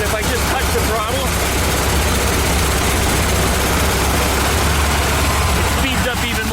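A VW Type 3 engine idles roughly, a loud, dense, continuous mechanical roar that stays steady and near throughout, with no clear separate throttle rise, while someone talks over it.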